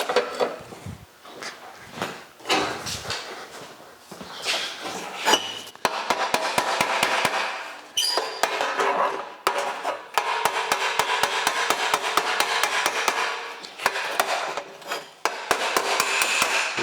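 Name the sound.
shoe hammer shaping sheet metal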